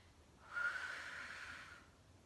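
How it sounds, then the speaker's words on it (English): A single long, steady exhale during a yoga pose, lasting around a second and a half, close and fairly soft with a breathy hiss. "Breathing out on the exertion."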